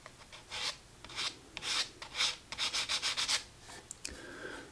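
Sandpaper of P600 grit rubs back and forth over the finish on a Gibson SG guitar headstock, giving soft, close rasping strokes, first spaced out and then in a quick run of short even passes.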